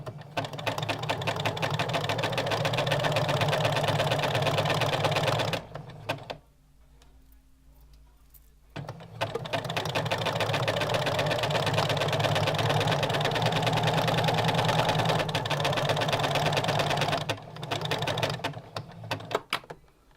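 A sewing machine stitches lace trim onto fabric bunting, running in two long steady bursts separated by a short pause in which a low hum lingers, close and fairly loud, with no voices.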